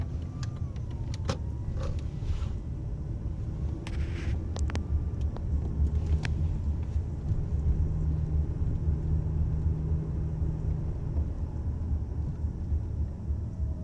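A 2005 Lexus ES 330 being driven on a street with a suspected worn wheel bearing, heard from inside the cabin as a continuous low droning rumble that rises slightly in the second half, with brief clicks and rattles early on.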